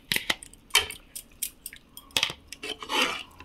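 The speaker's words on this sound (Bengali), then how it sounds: "দিয়ে এটাকে আলতোভাবে নাড়তে হবে।" A spoon clinks against a bowl while beaten yogurt is stirred gently into lukewarm milk, giving a handful of light, close metallic taps and scrapes separated by short pauses.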